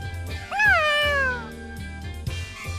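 A cat meows once in the Tales of Xillia 2 video game, a clear, rising-then-falling cry close by, over low background music tones.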